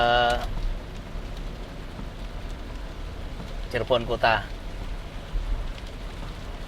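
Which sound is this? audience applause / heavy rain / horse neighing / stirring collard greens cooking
heavy rain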